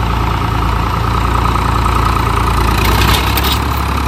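A Mahindra Arjun Novo 605 4WD tractor engine labors loudly and up close in a continuous, steady diesel drone while pulling a stuck Swaraj 735 FE tractor with trolley.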